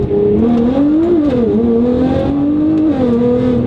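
A sports car engine revs hard at high RPM, a loud, steady growl whose pitch wavers slightly as it holds the revs.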